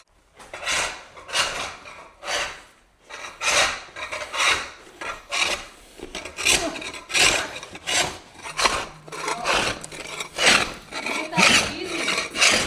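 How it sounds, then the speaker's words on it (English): A heavy-duty floor scraper rasps and scrapes along the floor while pulling up carpet tack strips in a new house, giving repeated rhythmic strokes of gritty, close, fairly loud scraping with a few brief pauses. "New tool day, heavy duty floor scraper."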